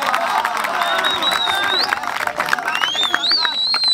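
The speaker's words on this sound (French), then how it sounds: "Applaudissez encore pour le coach Tibassou." A large crowd claps and cheers continuously, with a dense wash of applause and a few whistles rising above the noise.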